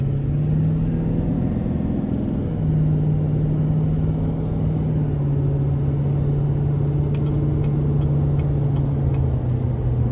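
A 2016 GMC Sierra 3500HD Denali dually pickup with a Duramax diesel engine accelerates hard, its steady low drone and rumble heard from inside the cab, with the engine note shifting slightly as it pulls.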